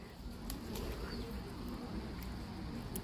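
A bird calls outdoors with soft cooing notes, faint and somewhat distant over steady low background noise on a farm in Israel.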